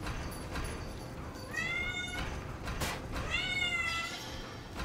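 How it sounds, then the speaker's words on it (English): A cat meows twice, two drawn-out, fairly close calls over a steady background hum. "Why you gotta be a kitty cat and all that?"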